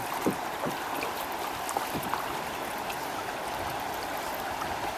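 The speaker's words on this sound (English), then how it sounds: "We're going through a shoal right here." Shallow river water rushes and burbles over a river-wide rocky shoal on the Broad River in Sumter National Forest, a steady broadband wash with a few soft paddle splashes and knocks from a canoe or kayak, no talking.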